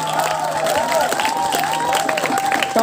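Audience applause and cheering at a live comedy stage show, a loud crowd clapping with whoops and shouts, while sustained, warbling tones from music run through it.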